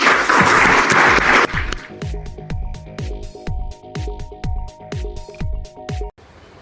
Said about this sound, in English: let's everyone give them a big round of applause